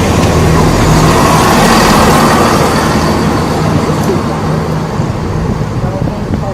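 Greater Anglia diesel unit 170-206 pulls into Ipswich station, a steady broad rumble of engine and rail noise filling the platform at close range, loud and continuous throughout.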